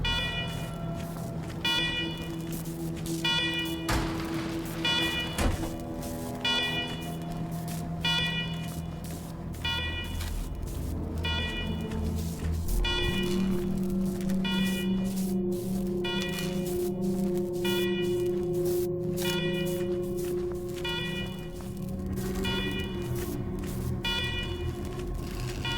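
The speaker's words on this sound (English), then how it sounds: "let's talk after you kill the alarms" Alarms blare through a facility in the video game Wasteland 3, a loud repeating electronic wail with pulsing tones that runs steadily for the whole stretch, layered with game ambience.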